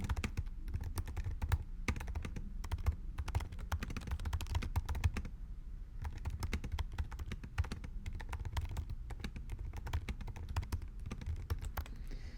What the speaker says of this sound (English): Let me just start typing on here.